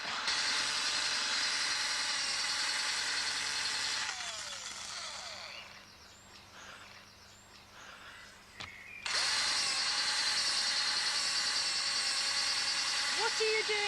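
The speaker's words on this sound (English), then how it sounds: "What are you doing now? Drilling. Drilling what? A hole." A power drill bores a hole, whining loudly in two long bursts with a quieter pause between them and a brief voice in the gap.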